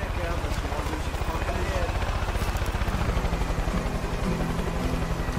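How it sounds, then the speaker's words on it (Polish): A helicopter in the Far Cry 5 video game drones with a loud, steady rotor chop that pulses throughout, while someone talks over it. "Helikopter mnie widzi."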